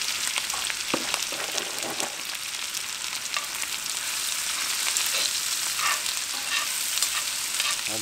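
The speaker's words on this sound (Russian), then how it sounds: "Обжариваю на сковородке." Onion and garlic fry in a pan over a campfire at a riverside fishing camp, a steady close sizzle with faint crackles and stirring scrapes throughout.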